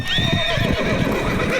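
Comic movie sound effect of a horse neighing with galloping hoofbeats underneath, a loud, continuous whinny that rises and falls over steady clip-clop, with no talk.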